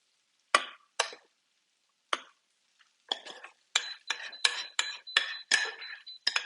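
Beet puree being spooned onto plates, a series of sharp metallic spoon taps and scrapes against ceramic, a few isolated ones first, then quicker repeated clinks, close and without talking.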